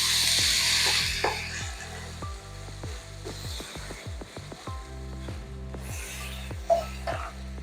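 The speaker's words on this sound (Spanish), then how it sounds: "Y vamos rehogando durante 3 minutos" Food sizzles steadily in a hot pan while cabbage-roll filling is sautéed for Ukrainian holubtsi, with a continuous frying hiss and occasional stirring over a low tonal background.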